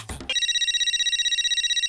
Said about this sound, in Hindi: वो कहीं वर्मा जी का फोन तो नहीं है?